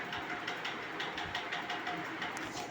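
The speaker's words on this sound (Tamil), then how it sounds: "தொடர்ந்து பார்த்துக்கிட்டே வாங்க ட்ரெயின் பயணம்" A passenger train travelling through Rajasthan gives a steady, loud rumble with faint rhythmic clatter of wheels on rails, continuous throughout with no talk.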